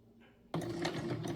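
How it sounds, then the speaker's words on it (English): A sewing machine starts abruptly and runs steadily up close, stitching the neck of a fabric stuffed turkey, after a moment of near silence. "we just sew right over the end of that bottom and start up the neck"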